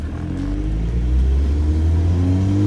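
A 2014 Mazda MX-5 Miata sports car engine rumbles steadily and climbs in pitch as it accelerates through the gears, loud and close, with no voices.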